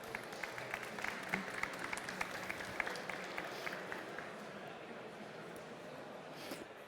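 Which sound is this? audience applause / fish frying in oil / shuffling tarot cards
audience applause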